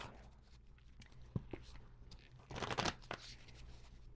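Stiff tarot cards shuffled close by, with quiet riffling and soft flicks that swell into a denser burst of shuffling near the middle before settling back to faint handling.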